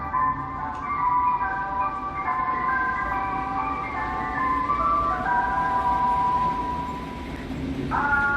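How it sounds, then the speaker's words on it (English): An ice cream truck in Mexico plays a looping chime tune, clear and fairly close, over a low rumble of traffic, with the melody briefly shifting near the end. "And then there's ice cream trucks or ice cream cars."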